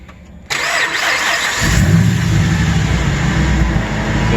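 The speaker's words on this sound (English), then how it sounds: "if you want to go ahead and turn the truck on" A Ram 1500/2500 pickup cranks and fires up after a quiet half-second, then settles into a steady, loud, close idle rumble.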